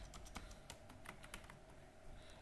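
Quick, irregular keystrokes on a computer keyboard as an application form's fields are filled in, a run of light clicks close by with no speech.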